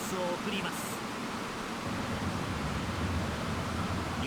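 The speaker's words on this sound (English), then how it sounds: "There's that hissing noise again" Steady broadband hiss in the Dreamcast football game J.League Spectacle Soccer, a constant rain-like wash of noise with no breaks, fairly faint and even throughout.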